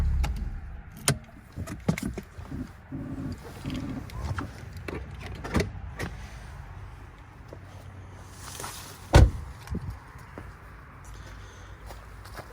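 A 1997 Audi S6 hood being popped open: scattered clicks, thumps and shuffling around the car lead to one sharp, close latch clunk near the end, with no talking.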